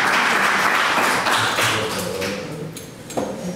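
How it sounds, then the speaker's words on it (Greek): Audience clapping at a community event on internet safety in Alexandroupolis, welcoming the next speaker; a dense, steady patter of many hands that fades slightly toward the end. "Χειροκρότημα για την Αλεξάνδρα."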